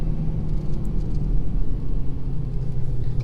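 A 2019 Ford F-350 Powerstroke diesel towing 12,000 lb on 35-inch tires, slowing under engine and exhaust braking with a deep, steady rumble heard from inside the cab, loud and continuous with no talking.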